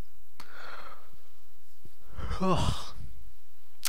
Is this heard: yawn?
yes